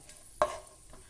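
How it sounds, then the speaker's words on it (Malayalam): Raisins drop into leftover ghee for Kerala semiya payasam, giving one brief, soft sizzle with a light clack of the spoon, then a fading hiss. "ഇനി നമ്മൾ അതേ നെയ്യിലേക്ക്, ബാക്കിയുള്ള നെയ്യിലേക്ക് തന്നെ ഉണക്കമുന്തിരി ഇട്ട് കൊടുക്കുകയാണ്"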